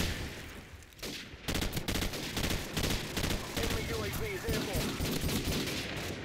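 Gunfire in Call of Duty 4 gameplay crackles in quick bursts and single shots, fairly near and punchy, with short pauses between volleys and a player's voice faintly mixed underneath.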